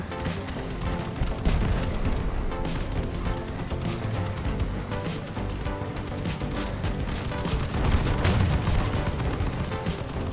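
Continuous battle noise from the vehicle combat game Crossout, with dense, overlapping gunshots and heavy cannon blasts over a constant rumble, loud throughout.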